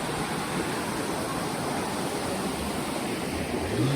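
A jungle river in Colombia flows past in a steady, dense rush of water, constant and fairly loud with no voices over it.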